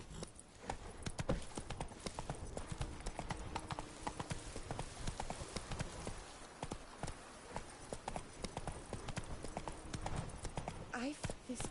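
Horse hooves clip-clop steadily at a riding pace in The Witcher video game, a continuous close rhythm of hoofbeats running throughout, with game speech and background sound layered over it.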